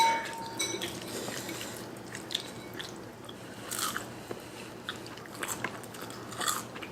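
Close-up crunching bites and chewing of a fried chicken drumstick, a series of crisp crackles at irregular intervals with quiet pauses between, no talking.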